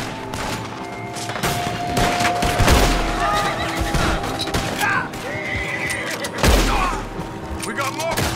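Horses whinny loudly in a Red Dead Redemption II game scene, with two sharp bursts of gunfire and thuds around them, while people talk over the action.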